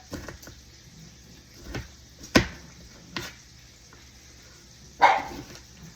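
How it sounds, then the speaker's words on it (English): An older female dog barks outdoors while soup is being made, a handful of sharp separate barks spaced over several seconds against a quiet background, fairly close and with no talk. "There ain't nobody around, but she gonna make every bit of that noise she can. I feel like the older this dog gets, the louder she gets."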